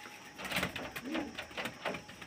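Domestic pigeons at a home loft give soft, repeated cooing in a steady rhythm, close by, with faint background noise and no talk over it.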